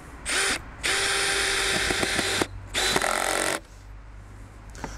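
A power drill drives a screw into wood during a garage build for a robot lawnmower, with two loud close bursts of whirring broken by a short pause and ending in a click.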